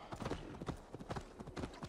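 Quick, steady hoofbeats clip-clop in a trotting rhythm in Assassin's Creed Valhalla, close and crisp, with no voices over them.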